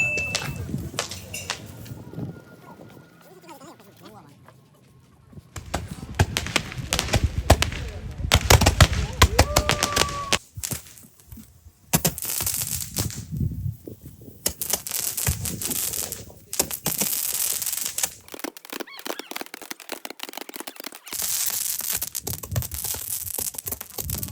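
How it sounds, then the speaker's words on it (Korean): Finale fireworks on a first night in Jeju, a choppy run of crackling bursts and sharp pops at varying distances, broken by short lulls, with voices faintly audible at moments. "첫날에 피날레 불꽃놀이 하러"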